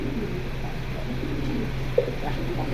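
Pigeons coo softly in a home loft, a low steady murmur of cooing running throughout with one brief louder note near the end and no talk.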